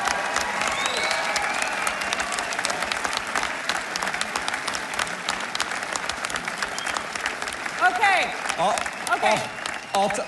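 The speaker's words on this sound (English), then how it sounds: "I'll take a standing ovation for a speech I already gave" A political conference crowd giving a standing ovation, with dense sustained clapping that fills the hall. Scattered cheers and whoops rise near the end, with faint voices mixed into the applause.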